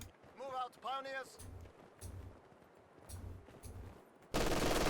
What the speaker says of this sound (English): Whereas this has the machine gun straight away.